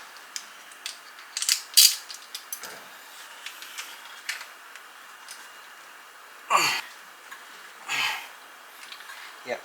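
A ratchet wrench loosens bolts on a car during a water pump replacement. Short bursts of rapid clicking are separated by pauses, close and fairly loud.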